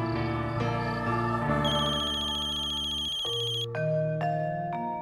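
A telephone ringtone sounds late at night in a Hindi TV drama scene, a loud, steady electronic melody repeating continuously for several seconds with no talking.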